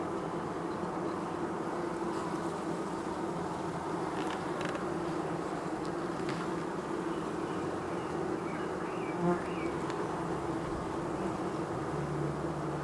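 A dense, steady hum of many honeybees buzzing together at an open hive fills the whole stretch, close and continuous without voices.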